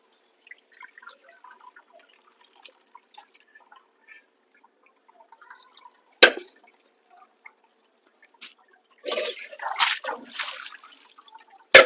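Water drips in small, scattered drops from soaked wheat squeezed by hand, then a louder wet squelching cluster comes as it is wrung out, in an otherwise quiet room.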